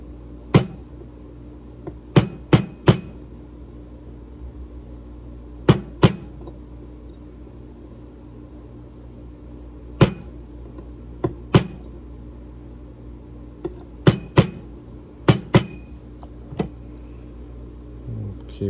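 A hammer taps a part flush while a Taurus TH9 pistol is reassembled. About a dozen sharp, close metallic taps come at irregular intervals, some single and some in quick pairs or triples, over a low steady background hum.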